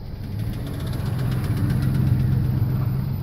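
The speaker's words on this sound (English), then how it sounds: "I'm gonna let this car go around." A car passes during a slow residential drive in Lancaster, California, a steady mid-pitched engine rumble that builds gradually with no talking.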